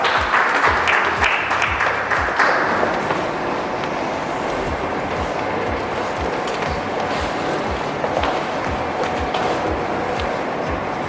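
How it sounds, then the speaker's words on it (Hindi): Audience applause at the Lalit Kala Akademi 67th Foundation Day ceremony, welcoming the minister: a steady, dense wash of clapping from a large indoor crowd that carries on throughout without a break. "तालियों से स्वागत करें मंत्री महोदय का।"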